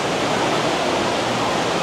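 Sudden heavy rain pours down outdoors by the Grand Canal shops in Venice, a dense, steady roaring wash of noise that stays loud and even throughout, with no voices.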